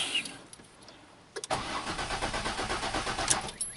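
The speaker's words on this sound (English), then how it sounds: "When you crank the engine" A 2005 Ford Escape engine cranks without starting. A quiet lead-in gives way to a rapid, rhythmic starter churn that repeats steadily and close for about two seconds.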